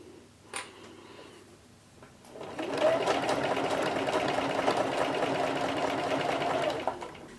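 A sewing machine runs a steady, continuous stitch along a vegan leather seam at a quarter-inch allowance, starting after a short pause with a faint click and humming evenly close by for several seconds before stopping.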